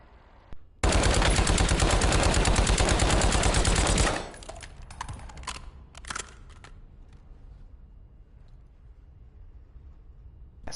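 A machine gun in Call of Duty: Warzone fires one long, loud, rapid continuous burst for about three seconds, followed by scattered quieter clicks and a few distant shots.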